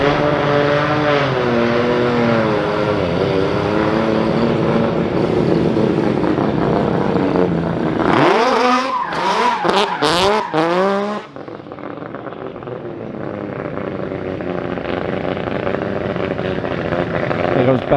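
Nissan R35 GT-R doing donuts at Goodwood, its engine roaring loud and close with a brief burst of tyre squeal midway before settling into a steady drone, crowd noise underneath.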